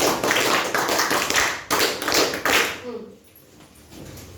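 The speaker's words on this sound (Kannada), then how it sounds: "ಉತ್ತಮವಾಗಿ ಅಭಿನಯಿಸಿದರೆ ಅವರಿಗೆ ಜೋರಾದ ಚಪ್ಪಾಳೆ ಮೂಲಕ ಅಭಿನಂದನೆ" Schoolchildren and teachers at a 5th-standard school event clap loudly for the students' performance, a dense burst of applause that fades out after a few seconds, with voices mixed in.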